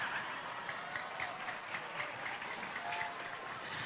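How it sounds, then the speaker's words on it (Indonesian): An audience at an Islamic sermon claps together, a faint, distant patter of many hands with rhythmic bursts, heard alone. "Nah gitu dong, tepuk tangan kan percis di TK."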